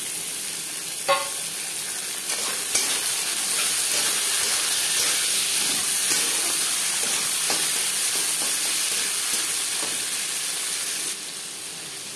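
Garlic and chickpeas fry in a hot pan with a steady, loud hiss and sizzle, broken by a few brief stirring clicks, ending with a slight drop in level.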